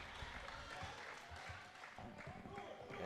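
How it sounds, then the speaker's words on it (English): Steady crowd applause fills a high school girls' basketball gym (Cherokee vs Dacula) as a player heads to the bench, a dense even patter with a commentator talking over it. "And applause as Lily Griffith comes to the bench."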